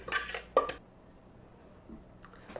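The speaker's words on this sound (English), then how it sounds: "now I'm just going to scrape this out of here" Utensil scraping food out of a bowl while making budget coleslaw: two quick clinking scrapes close up at the start, then near silence with a faint tap near the end.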